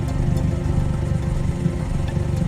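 Subaru WRX fitted with SRS mufflers with bigger tips, tuned for a lower tone, heard from outside the car: a steady, deep exhaust rumble idling close by with no break for the whole stretch.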